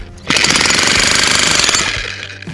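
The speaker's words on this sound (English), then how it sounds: "So the jackhammer running off the EcoFlow works." A jackhammer powered by an EcoFlow portable power station starts up after a brief buzz and pounds loudly and steadily at close range for about a second and a half, then winds down.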